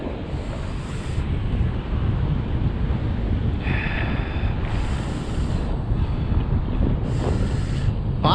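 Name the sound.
strong wind noise as a drone flies low over big waves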